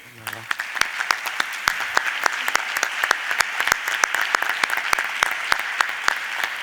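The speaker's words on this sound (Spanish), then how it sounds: "el auditorio debe darle un gran aplauso a este señor" Audience applause at a conference session, sharp individual claps ringing out in a fairly sparse, uneven rhythm from a modest crowd, with some voices beneath.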